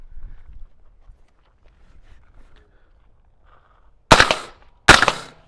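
Two suppressed gunshots from a CMMG Banshee firing 5.7 ammunition through an OSS Rad 22 suppressor, a loud close sharp crack followed by a second about a second later, after quiet outdoor rustling.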